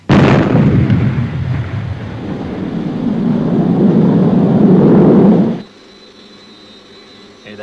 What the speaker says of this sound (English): Main boosters ignited.